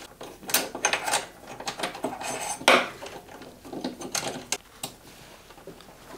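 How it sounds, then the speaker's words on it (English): A metal bolt is screwed back in to mount a rail attachment on a Onefinity Revolution CNC machine. It makes a series of close, sharp metallic clinks and ratcheting taps in uneven bursts, with no talking. "you're just gonna use the same bolt, screw it right back in"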